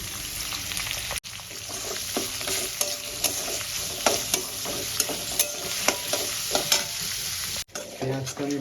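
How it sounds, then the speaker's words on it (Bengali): Onions frying in oil until browned in a Bengali kitchen, with whole spices already tempered in the pan: a steady, close sizzle broken by repeated scrapes and clinks of a spatula stirring, with no voices. "পেঁয়াজটা আমি একদম পুরো বাদামি করে ভেজে নিয়েছি"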